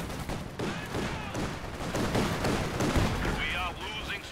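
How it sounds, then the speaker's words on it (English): Gunfire from a World War II strategy game battle with a Panzer II and a ZIS, dense crackling shots layered into a continuous noisy barrage, with tonal radio chatter and voices appearing near the end. "We're taking full arms fire."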